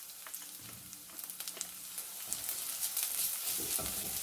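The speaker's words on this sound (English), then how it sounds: "Now add green chili and ginger garlic paste." Green chili and ginger garlic paste sizzling in hot oil with browned onion, a steady close frying hiss with small crackles and occasional stirring, growing louder toward the end.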